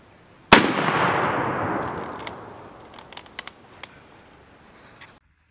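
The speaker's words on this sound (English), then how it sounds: "we just got done sighting in my son's shotgun" A single loud, close shotgun blast fired while sighting in outdoors, its sharp crack followed by a long decaying echo and a few faint clicks and knocks afterward.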